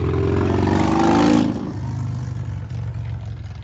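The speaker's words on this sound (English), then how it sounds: "Why do they have to make motorcycles so loud?" A loud motorcycle roars past close by, its engine swelling to a peak and then dropping to a lower rumble as it moves away.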